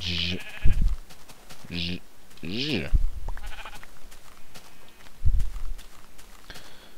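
Sheep bleat several times in Minecraft, close and loud, among soft footsteps and game sounds, while someone talks in German between the calls.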